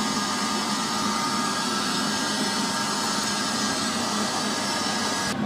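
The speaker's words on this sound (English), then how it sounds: "Pull the trigger and the wire should feed through cleanly." A MIG welder feeding wire through its hose with the trigger pulled, a loud, steady motorized whir that runs unbroken and close, then cuts off at the end.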